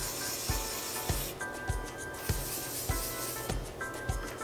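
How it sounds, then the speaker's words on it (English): A walnut rubbed over marked wooden furniture gives a soft, steady scratchy rubbing, close and quiet, with faint regular knocks under it and no talking. "So I'm going to use a walnut to see if I can get those out."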